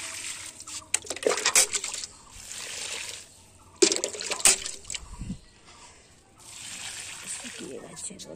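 Water splashes and trickles onto potted aloe vera plants in uneven pours with short drips between them, close by, while a voice speaks.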